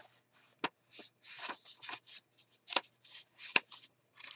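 Paper is sliced with scissors or a blade to make a pocket in a decorated Christmas journal, giving a series of faint, crisp cutting snips and rustles at irregular intervals.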